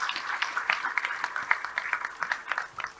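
An audience claps for a music group, a short burst of moderately loud, fairly sparse applause with distinct individual claps.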